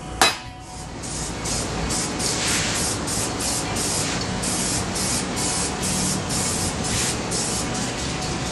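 Spray gun laying a first base coat of paint on a Harley-Davidson Street 750 part, a continuous close hiss that starts abruptly and pulses slightly with each pass.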